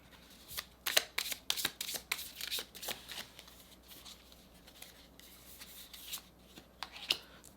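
A deck of tarot cards is shuffled close by in repeated quick riffles and crisp flicks, a rhythmic, fairly quiet series of snaps with brief gaps.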